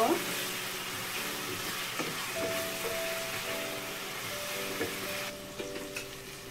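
Ground cumin and other spices sizzle in a hot pan while cooking deer meat curry, a steady close hiss with soft scattered stirring clicks that thins out near the end.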